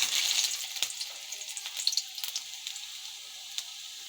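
Finely chopped ginger and garlic fry in hot oil in a kadhai, a steady close sizzle with scattered crackling pops that gradually eases and thins out over several seconds.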